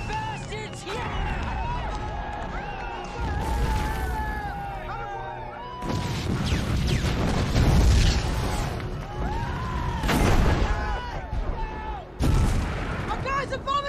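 Artillery bombardment on a WWI battlefield in The Lost Battalion, with repeated heavy booming explosions and rumbling blasts mixed with frantic shouting voices and chaotic battle noise throughout.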